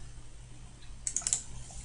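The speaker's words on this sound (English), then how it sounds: "and then you can just keep left clicking" A few quick computer mouse left-clicks, about four, crisp and close over a quiet room hum during a drawing software exercise.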